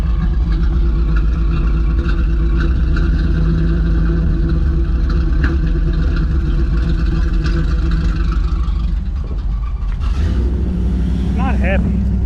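An old junker car engine runs at a steady, rough idle, a loud low rumble filling the whole stretch, with a voice speaking over it near the end.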